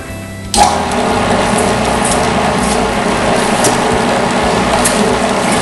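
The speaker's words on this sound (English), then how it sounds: "we're going to put it back in here and we're going to regrind it twice" A meat grinder regrinding deer and beef for bologna starts with a clunk and then runs as a loud, steady mechanical whir and grind with a faint rhythmic churning.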